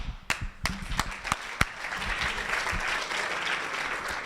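Audience applause at a startup pitch event: a few scattered claps at first, then a steady, dense wash of clapping from a crowd filling the rest of the clip.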